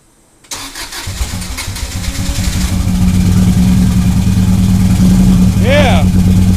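A Subaru EJ22T DOHC engine cranks and fires for its first start, settling into a rough, uneven, misfiring idle that grows louder and steadier, close up, with a short excited voice near the end.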